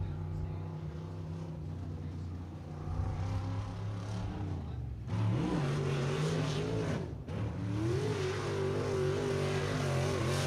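A race car engine drones steadily at a Friday night track event, then roars louder as it revs up and down, passing close with rising and falling pitch.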